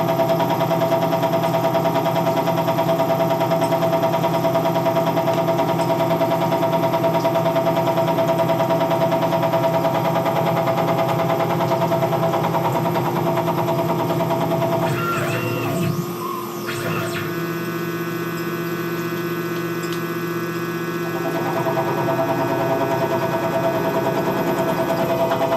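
A CNC machine cuts teeth into idler gears, a steady loud mechanical whir with constant hum throughout, briefly interrupted midway by a clattering burst before the grinding drone resumes.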